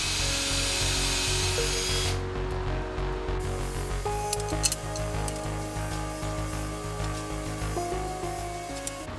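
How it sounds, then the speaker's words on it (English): A power drill pre-drilling screw holes in wood for an outfeed assembly table, a steady whining motor drone that shifts pitch partway through as the bit bites, running continuously and fairly close. "I then pre-drilled each screw location to prevent the wood from splitting."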